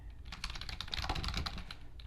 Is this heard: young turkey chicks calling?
no